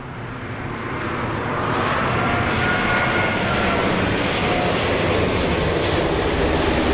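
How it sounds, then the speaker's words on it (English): A British Airways Airbus A380 arrives at London Heathrow on runway 27L, its loud jet roar swelling over the first seconds and then holding steady and close. No one speaks. "British Airways A380 then."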